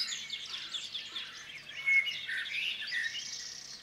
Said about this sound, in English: This is the little Sardinian warbler with its characteristic reddish eyelids.